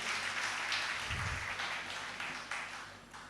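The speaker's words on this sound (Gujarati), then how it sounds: "ફરી જોરદાર તાળીઓથી આપણે વધાવીએ." Audience applause at a poetry gathering in Amreli after poet Vinod Joshi's talk, a steady broadband wash of many hands clapping that holds loud throughout and tapers slightly toward the end.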